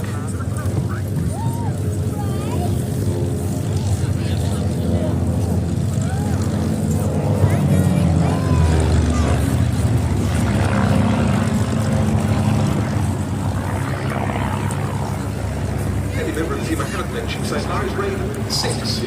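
Six Van's RV-8 propeller planes of the Team Raven display fly in formation at the IWM Duxford D-Day airshow, a loud sustained engine drone swelling and fading as they pass, with a commentator talking over the public address.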